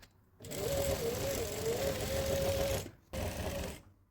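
A sewing machine stitches down to the bottom of a shirred dress in one close, steady buzzing run of about two and a half seconds, then pauses briefly before a shorter second burst.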